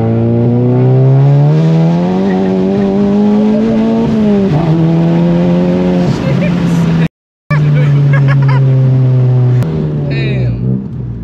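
A Volkswagen GTI with an IS38 turbo drones loudly from inside the cabin, holding steady then shifting pitch as it changes speed, with a brief dropout and people talking over it.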